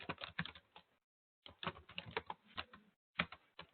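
Fingers type quickly on a computer keyboard in short clattering bursts, with one clear pause and a shorter gap between runs of keystrokes, close and fairly quiet.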